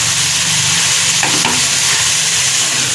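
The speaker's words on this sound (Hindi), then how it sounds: "कलेजी को भूनते हुए मुझे 3-4 मिनट हो गए।" Masala chicken liver frying in a pan while being stirred, a steady loud sizzle with scraping of the spoon against the pan, and no voices.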